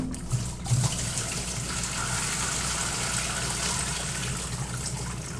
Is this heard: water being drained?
yes